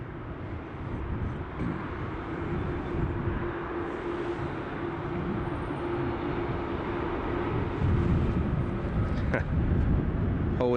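An Airbus A350 landing on Heathrow's runway 27 right roars as a broad, steady jet rumble that swells gently toward the end, heard from a distance with no voices over it.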